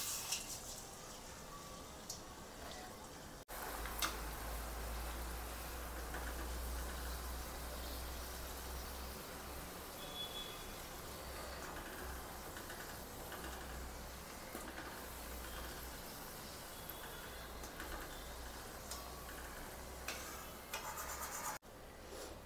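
Small vada dough balls dropped into hot oil for a Kolhapuri vada kombada, giving a quiet, steady fizzing sizzle with a low hum beneath and no talk.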